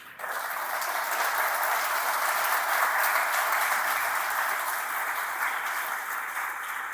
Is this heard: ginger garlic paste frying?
no